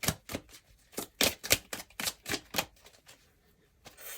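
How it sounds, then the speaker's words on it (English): Tarot cards pulled one by one from a pile: a quick series of crisp, papery slaps and flicks in an uneven rhythm, close and fairly clear, ending in a short rustle, with no talking. "Let's pull some more cards."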